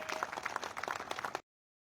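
An audience at a village community gathering breaks into brief applause, dense overlapping claps heard moderately far off, then stopping abruptly.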